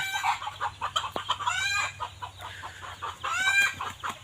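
Repeated clucking from several junglefowl, close by and fairly loud, with short rhythmic calls over a steady low background hum.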